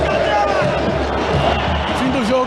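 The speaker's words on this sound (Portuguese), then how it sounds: "Torcida hostilizando o Aranha aqui." A football stadium crowd jeers goalkeeper Aranha with a loud, continuous roar of shouts and whistles. A voice talks over the din.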